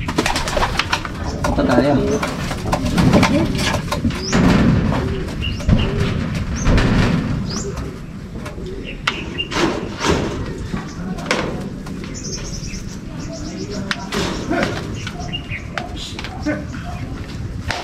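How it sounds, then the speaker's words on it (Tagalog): Racing pigeons being released for club training coo and flutter close by, with several soft coos and wing flaps while someone speaks over them. "Ayos mga kalapatids. Ipakawalan natin."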